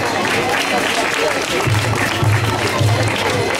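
Audience applause in the stands at a Muay Thai club's association day, a steady broadband patter of many hands with murmuring crowd voices underneath, holding even throughout.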